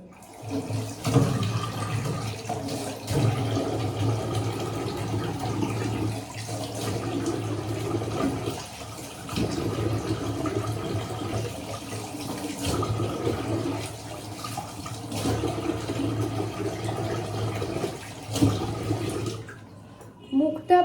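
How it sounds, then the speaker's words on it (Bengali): Tap water running steadily into a sink while a face is washed, with splashing and gurgling surges and brief pauses, close and fairly loud, cutting off near the end. "এবার আমি মুখটা ভালো করে ওয়াশ করে নেবো"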